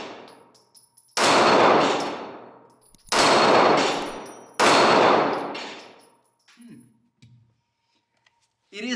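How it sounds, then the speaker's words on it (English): Three loud gunshots from a Canik Mete MC9 micro compact 9mm pistol fired outdoors at a tree, each a sharp crack with a long ringing decay, followed by quieter metallic clicks and handling. "Let's see if the Canik can handle the pressure of me shooting at the tree."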